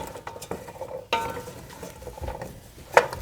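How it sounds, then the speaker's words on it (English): A spoon stirs chopped vegetables and potatoes in olive oil in a soup pot, with scraping, soft clinks and a faint sizzle, close and fairly quiet. "Let's give that a stir and coat all those delicious vegetables with that yummy olive oil."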